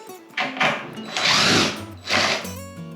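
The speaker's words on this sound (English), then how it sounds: "All we've got to do now is unscrew the mould and get on with it." A power drill backs screws out of a fiberglass hatch mould, with several short close whirring bursts of rising and falling motor pitch separated by brief pauses.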